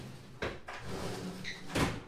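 A drawer in a dorm room furniture unit slides open with a couple of short wooden scrapes and knocks, close by, with no talking.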